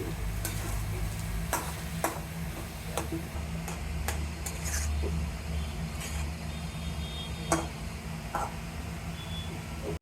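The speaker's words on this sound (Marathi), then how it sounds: "व मिक्सरमध्ये वाटलेली मिरची कोथिंबीर व जिरे व बारीक केलेला बटाटा टाकून परतून घेणार आहे" Mashed potato with ground chili, coriander and cumin being sautéed in a pan, giving a steady low sizzle with scattered sharp ticks and scrapes of a spoon stirring throughout.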